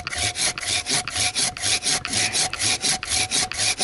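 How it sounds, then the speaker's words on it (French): A hand saw rasps steadily through a fruit tree branch in quick, even back-and-forth strokes, close up and loud, with no voices. "Alors j'ai une scie qui mine de rien coupe très bien"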